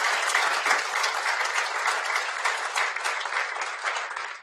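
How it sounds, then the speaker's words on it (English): Steady, dense applause from an audience at an outdoor announcement event, continuous and fairly loud for the whole stretch with no talk. "Let's give them a round of applause."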